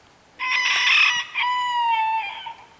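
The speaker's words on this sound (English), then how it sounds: "Just having a look at my chickens." A rooster crows close by on a homestead on a wet spring day, two drawn-out calls back to back with a brief gap, loud and clear against a quiet background.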